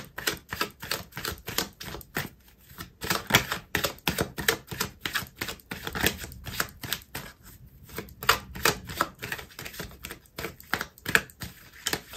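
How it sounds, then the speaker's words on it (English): Tarot cards being shuffled and drawn, a fast run of crisp, closely spaced riffling clicks and flicks, close and fairly loud, with short pauses between bursts and no voices. "I'm going to pull out another card for you"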